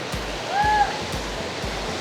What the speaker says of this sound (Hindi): देखिए अब ये एक ज़बरदस्त वाटरफॉल है, करीब है